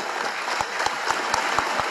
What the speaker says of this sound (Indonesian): Tepuk tangan buat Mas Usman bin Affan.